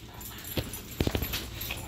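Dogs whimpering and giving small yips while waiting for popcorn, several short close cries over a busy indoor background with no clear speech.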